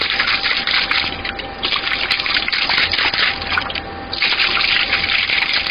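Water gushing and pouring out of a toilet ballcock, a loud continuous splashing flow with brief dips in strength, no voices.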